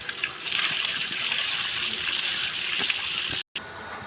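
Water from a solar-powered DC pump pours forcefully out of a pipe outlet in a steady, loud, hissing gush that runs continuously, broken only by one brief dropout near the end.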